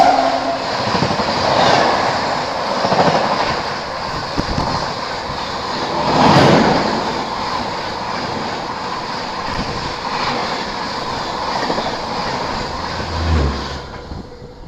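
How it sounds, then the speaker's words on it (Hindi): The Ranchi Rajdhani express on Indian Railways rushing past close by, a loud continuous roar of wheels and carriages with rhythmic clickety-clack over rail joints that swells and ebbs for the whole stretch, without voices. "रांची राजधानी आ गई।"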